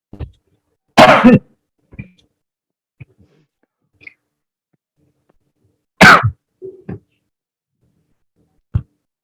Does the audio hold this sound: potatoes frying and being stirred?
no